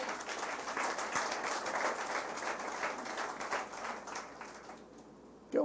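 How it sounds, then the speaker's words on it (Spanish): Congregation applause at a Good Friday memorial service in church, a dense, steady wash of many hands clapping for about five seconds before thinning out and ending abruptly. "Un aplauso al Señor."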